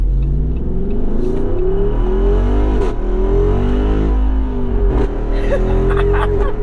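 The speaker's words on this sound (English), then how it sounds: "this thing does the very, very iconic ZF 8-speed fart in between gears" A 2022 Jeep Wrangler 392 V-8 with a ZF 8-speed automatic revs hard through several gear changes, each shift marked by a brief dip and crack before the engine climbs again, loud and close with wind and road rumble.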